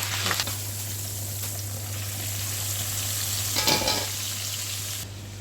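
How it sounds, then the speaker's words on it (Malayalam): Garlic, curry leaves and green chillies frying in oil for a fish fry, a loud continuous close sizzle with occasional bursts of stirring, ending in a softer hiss. "ഇതിൻ്റെ കൂട്ടത്തിൽ തന്നെ കുറച്ച് വെളുത്തുള്ളിയും കറിവേപ്പിലയും പച്ചമുളകും എല്ലാം കൂടി ഒന്ന് ഫ്രൈ ആക്കി എടുക്കാം"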